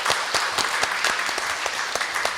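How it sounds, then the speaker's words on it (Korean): An audience at a Catholic evening retreat lecture claps for a priest, a dense, even round of applause from a moderate-sized crowd in an indoor hall, with no voices over it. "신부님께 다시 한번 감사의 박수 보내드리고요"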